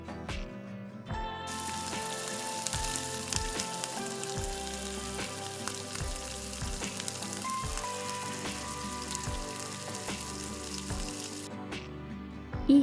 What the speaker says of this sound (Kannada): ಈರುಳ್ಳಿ ಮೆತ್ತಗಾಗೋವರೆಗೂ ನೋಡಿ ಚೆನ್ನಾಗಿ ಫ್ರೈ ಮಾಡ್ಕೊಬೇಕು